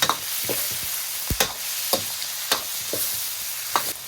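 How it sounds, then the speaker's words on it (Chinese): Garlic sizzling in hot oil in a wok alongside pork intestines, a steady frying hiss broken by several sharp spatula scrapes and clanks as it is stir-fried. "下入大蒜，爆香"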